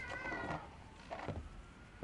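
A cat meows in the fantasy action game Forspoken, two or three soft, drawn-out calls over a steady low background hum, faint and fairly close.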